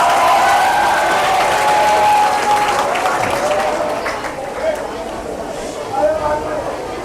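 Audience applause at a skills and employment training event, a dense wash of clapping that starts loud and fades gradually over several seconds.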